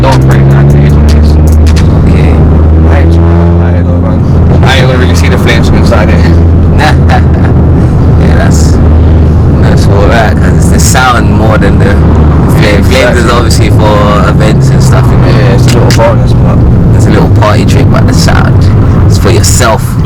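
Stage 1 tuned VW Golf GTI exhaust droning loud and steady under hard acceleration from inside the cabin, a continuous deep throbbing with rising engine tone and a voice talking over it.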